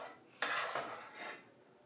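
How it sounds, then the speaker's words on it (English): Meat mixture spread over the top layer of a lasagna with a utensil, giving a short burst of soft scraping and clinking against the pan, fading after a second or so. "you're going to take the rest of your meat mixture, and you're going to spread it on top"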